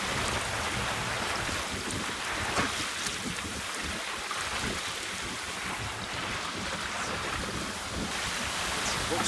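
Strong wind gusts buffet the microphone on open water aboard a lugsail yawl dinghy, a continuous loud roar mixed with waves and splashing, with no clear speech.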